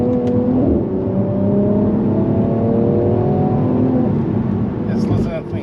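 A 2020 Mercedes C43 AMG sedan's engine howls loud and close after a downshift from fourth gear, the pitch rising steadily as it revs through the pull, before easing off near the end.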